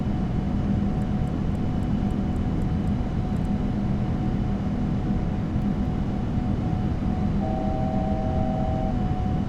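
Boeing 787 jet engines climbing out of Narita in X-Plane 11, a steady, loud broadband roar with a low hum and faint tonal whine that holds constant throughout, with no talking.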